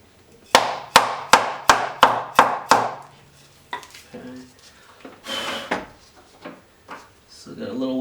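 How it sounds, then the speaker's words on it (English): Sharp whacks on a BMW N52 eccentric shaft sensor from a 328i, seating it by hand: seven evenly spaced close knocks in a quick run, followed by scattered softer clatter and low voices. "I'm just going to give it a couple whacks to make sure it's fully seated."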